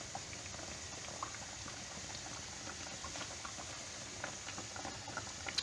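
Gnocco fritto dough frying in hot oil, a steady bubbling crackle with scattered pops, close and moderately loud.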